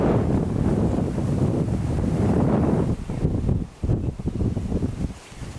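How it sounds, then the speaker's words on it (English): Strong wind in Thailand buffets the microphone in a continuous roar, with gusts easing and surging again toward the end. "It definitely did not seem as windy as this when we were driving down."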